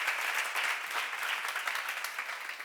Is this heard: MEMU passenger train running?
no